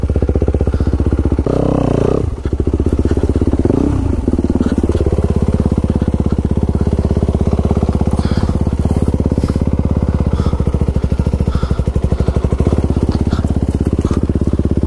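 Off-road motorcycle ridden over rough ground toward a lake, its engine droning loud and steady throughout with clattering and jolts early on, no talk.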